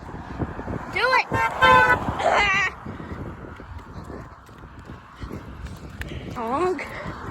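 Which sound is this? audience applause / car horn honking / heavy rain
car horn honking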